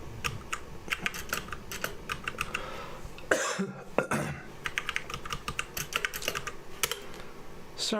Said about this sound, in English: Sorry for coughing so much.